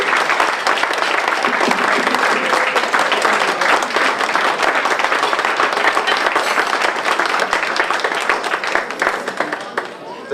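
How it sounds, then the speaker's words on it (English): Sustained applause and clapping at a mayor's charity ball honoring school system staff, a large crowd clapping steadily for about ten seconds before tapering at the end, with some voices in the mix. "I'd like everyone to give them the well-deserved applause and recognition that they all deserve"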